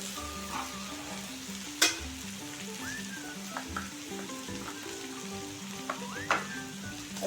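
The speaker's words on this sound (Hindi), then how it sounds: "अदरक लहसुन को अच्छा फ्राई करने देना" Ginger and garlic fry in a pan with a continuous close sizzle. An occasional scrape or clink of stirring sounds against the pan, and a faint tune plays in the background.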